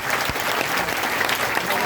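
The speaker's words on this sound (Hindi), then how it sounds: "उन सब के लिए जोरदार ताली बजाओ भाई।" Loud, dense audience applause fills the whole stretch at a Satish Baudh talk on Manusmrti and Ambedkar, steady rapid clapping from a large crowd, with a voice faintly audible beneath it.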